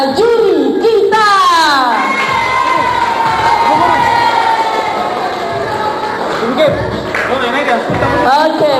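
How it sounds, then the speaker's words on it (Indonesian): A school audience of children cheers and shouts loudly as a crowd, with steady, sustained noise filling the whole stretch, at a religious storytelling competition for Isra' Mi'raj in an elementary school. "Beri aplaus untuk ketiga juri kita."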